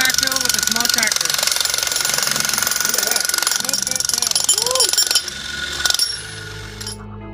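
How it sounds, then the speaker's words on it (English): A small tractor with a mini scoop backfills an old swimming pool, its engine chugging and knocking steadily at close range over a rattling, clattering din, easing off briefly near the end; voices can be heard. "Big pull backfill with a small tractor."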